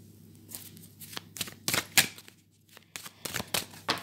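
Tarot cards being shuffled in a series of crisp riffling bursts and slaps, close and fairly quiet, with short pauses between handfuls and no talking.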